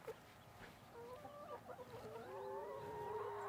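Backyard chickens inside a hoop coop cluck and murmur close by, their calls rising into longer, drawn-out vocalizations over a quiet background.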